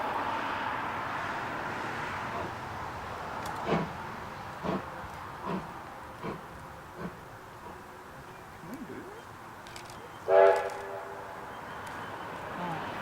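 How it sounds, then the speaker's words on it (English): The A2 986 steam locomotive stops and sets back at Broadford, giving a series of spaced, soft chuffs over a low rumble, then a short louder whistle-like blast, with background voices faintly present. "The second photo stop of the day sees the train stop at Broadford before setting back to the nearby S-curves"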